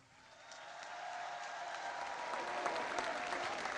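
Crowd applause at a presidential keynote speech in Warsaw, Poland, rising from a quiet start into sustained, dense clapping from a large audience that fills the clip.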